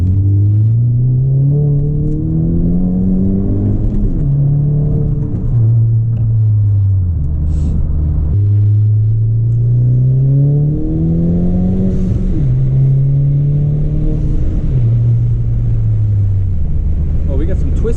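A 10th-gen Honda Civic Si with a loud turbo and exhaust setup, driven and revved: a deep, constant engine drone that climbs in pitch through repeated gear pulls, each upshift dropping the tone, loud and close throughout.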